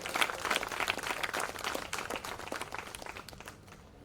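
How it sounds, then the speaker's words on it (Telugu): Audience applause welcoming a priest at a church gathering, a dense wash of clapping that starts loud and gradually thins and fades over about four seconds. "అందరూ కూడా చప్పట్లు కొట్టండి"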